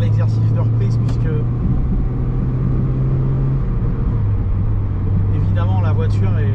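A 1990 Peugeot 205 Junior with a 1-litre engine and four-speed gearbox drones loudly from inside the cabin while driving, a steady low engine hum that shifts pitch slightly as it runs, with someone talking over it.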